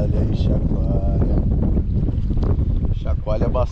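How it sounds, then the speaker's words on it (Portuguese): Gusty wind buffets the microphone over churning waves on the Paraguay River in the Pantanal and a running boat, with someone talking throughout. "Olha as ondas do Paraguai."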